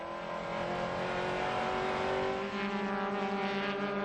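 Onboard engine roar from a Corvette race car at Watkins Glen during the 2000 Motorola Cup, a loud sustained engine note holding steady with a brief dip midway, no talk.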